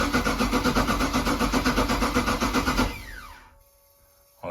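A 1976 Sea Ray HT240 boat engine with a new idle valve cold-starts and runs roughly with a loud, steady pulsing chug. After about three seconds it dies, leaving a falling whine that fades into near silence. There is no talking.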